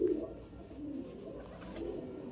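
Double mor pigeons at a pigeon-flying cup event in Amritsar give a soft, low, continuous cooing that stays close and steady throughout, with no voices over it.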